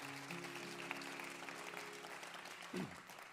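A theater audience at a live music broadcast applauds the volunteer crew, giving steady, even clapping with a sustained hum beneath it and a brief low thump near the end.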